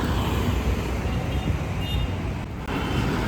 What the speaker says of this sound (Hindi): पीछे ट्रैफिक का अच्छा खासा नॉइज आ रहा है।